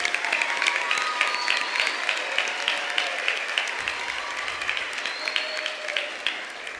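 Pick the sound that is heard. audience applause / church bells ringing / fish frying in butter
audience applause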